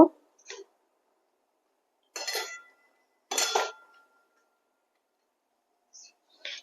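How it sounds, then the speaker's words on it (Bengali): Fried chicken being stirred into orange gravy in a pan, a few separate bursts of spoon scraping and clinking against the pan, with quiet gaps between them. "চিকেনটা দিয়ে ভালো করে নেড়ে চেড়ে চিকেনের গায়ে গ্রেভিটাকে মাখিয়ে নেব"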